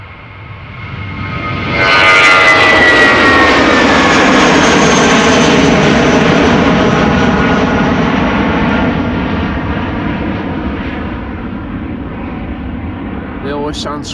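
An Air France Embraer jet at Schiphol Airport roars past close by, its engine whine swelling quickly to a loud, steady rumble that slowly fades while still lingering at the end.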